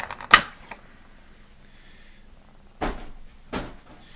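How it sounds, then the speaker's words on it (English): A door on a cardboard Pokemon advent calendar is opened, giving a sharp close crack of a tab, then quieter rustles and two soft handling taps, with no talking. "We'll open this door"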